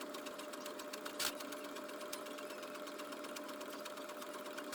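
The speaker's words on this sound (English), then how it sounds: "I apologize for the washer and dryer." A steady mechanical hum and whir of a running washer or dryer fills the room, with faint rhythmic rattling and a couple of brief clicks.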